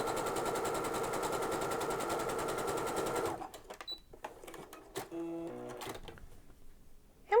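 A sewing machine fitted with an overcast foot stitches in a fast, even run for about three seconds, then stops, leaving quieter handling clicks and a faint voice.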